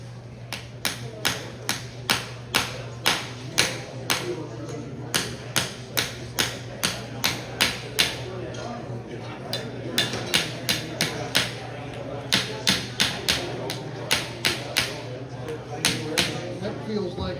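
A hammer tapping snug-fitting parts square into a Saginaw steering gearbox during a rebuild, sharp metallic taps in quick bursts of several blows with short pauses, over a steady low hum and faint background voices.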